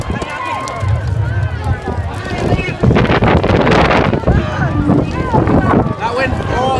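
Gusty wind roars and buffets the microphone outdoors, rising and falling loudly while people talk over it.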